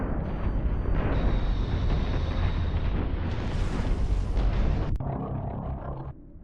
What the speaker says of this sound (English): there goes the carrier. Blown to pieces.